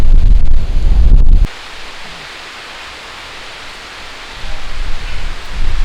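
Loud, rumbling gusts of wind buffet the microphone at first outdoors in a village, then ease into a softer, steady rush before building again near the end, as rain arrives.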